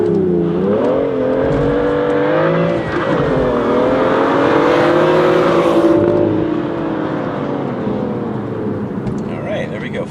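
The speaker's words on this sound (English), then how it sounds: "0 to 60 in the M2. Let's see what it does." A 2016 BMW M2 revs up hard through its gears in a 0-to-60 run, the rising whine of acceleration filling the cabin, loud and close, with a brief voice mid-run.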